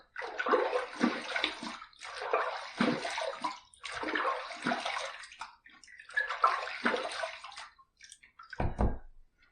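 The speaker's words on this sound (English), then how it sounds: "All right, let's rinse." Tap water runs and splashes in four bursts, broken by short gaps, as a face is rinsed at a sink during a shave with an aluminum safety razor. It ends in a brief low thump, close and fairly soft, with no talk.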